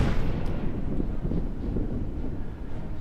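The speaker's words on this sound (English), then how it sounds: "They are the longest range guns in the game, the main guns of the battleships." Battleship main guns firing in the naval strategy game Battle Fleet 2, a continuous low, heavy rumble of booming artillery that stays loud throughout with no clear separate shots.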